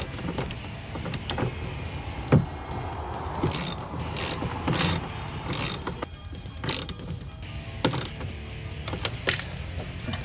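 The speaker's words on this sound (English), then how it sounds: "and then tighten that bolt down" A ratchet tightens a bolt on a powered, heated, automatic folding towing mirror of a 2014-2018 Silverado or Sierra 1500, giving close, distinct bursts of clicking strokes with brief pauses between them.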